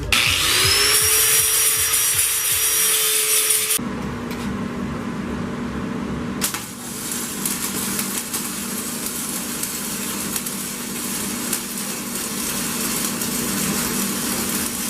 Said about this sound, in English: and then you go grind it off.